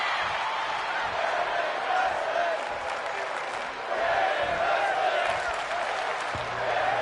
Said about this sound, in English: This capacity crowd making some noise, showing some love.